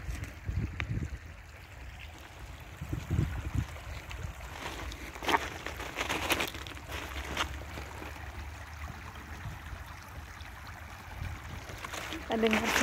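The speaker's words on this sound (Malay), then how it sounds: "Dengar suara air dari dekat, bening banget." Steady rushing of a river flowing close by, a continuous wash of noise with people talking over it.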